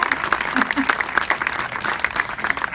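An audience applauding, steady dense clapping at moderate volume with a voice talking over it.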